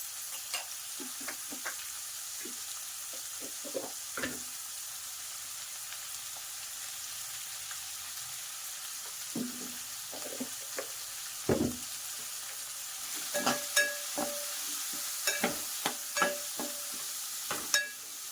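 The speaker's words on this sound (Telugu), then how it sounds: "ఇది కాస్త ఫ్రై అవ్వాలి. ఈ పచ్చిమిర్చి క్యారెట్ కూడా వేసేసి ఇవి కూడా ఫ్రై అవ్వనిద్దాం." Green chillies and carrot frying in a pan with salt and turmeric, a quiet steady sizzle broken by scattered scrapes and taps of a spatula, with busier stirring clatter toward the end.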